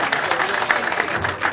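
Crowd at a party school event claps steadily through the whole short stretch, a thick wash of many hands with faint voices underneath.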